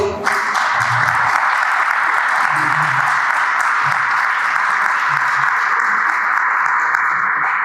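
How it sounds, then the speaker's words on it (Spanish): Loud, sustained applause rises from an audience for Bolivia's vice president David Choquehuanca, dense clapping filling the hall evenly from start to finish, with a few faint voices murmuring underneath. "Un aplauso, por favor."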